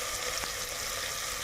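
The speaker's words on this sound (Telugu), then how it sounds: "ఇవన్నీ బాగా ఫ్రై చేసుకోవాలి" Coriander and mint leaves fry in a pan while cooking Andhra-style Bombay rava ganji, giving a steady, close hiss of sizzling with no talk.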